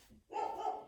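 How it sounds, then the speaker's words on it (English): A dog at home barks once, a short sharp bark after a brief quiet moment, heard from inside a room. "Excuse the dogs barking."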